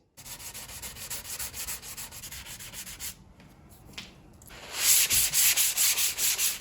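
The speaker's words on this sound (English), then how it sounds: "I'm just going to give a whole lot of light sanding in 400 grit sandpaper" Light sanding with 400 grit sandpaper on a model boat: rhythmic scratchy rubbing strokes, fast and fairly close, pause briefly, then return louder with a steady back-and-forth pattern.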